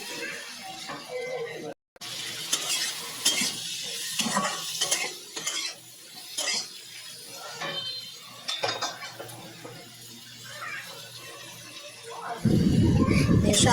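Capsicum, onion, chilli, cabbage and tomato stir-fry in a pan for chowmein, with scraping, clinking utensil stirs and a soft sizzle under a person talking, ending in a louder burst of frying.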